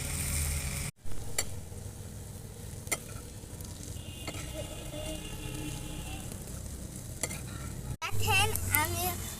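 Shredded potatoes seasoned with turmeric, chili and salt fry in a pan without added water, giving a soft continuous sizzle with occasional stirring scrapes and clicks, close and fairly quiet.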